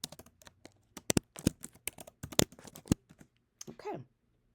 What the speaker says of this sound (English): I'm going to type in the name of the business